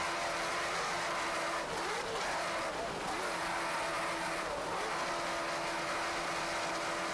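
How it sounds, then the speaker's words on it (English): Powerful engines of a 40-foot Jaguar offshore racing boat roaring on the water, a loud continuous drone that swells and dips as the throttles are worked, with a voice faintly underneath. "just listen to how he's working those throttles aboard this 40-foot Jaguar"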